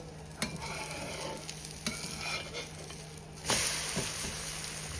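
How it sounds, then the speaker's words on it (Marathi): A close, steady sizzle of an omelette cooking on a hot griddle, with a few soft scrapes and a brief louder hiss near the end. "त्याच तव्यामध्ये हे मी ऑमलेट बनवते"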